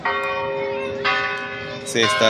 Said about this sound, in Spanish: se están tocando las campanas